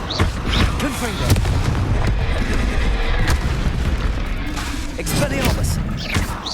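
Repeated Confringo fire spell blasts in Hogwarts Legacy duel combat, a dense run of sharp booming bursts and crackles over a continuous rumbling backdrop, with voices speaking throughout.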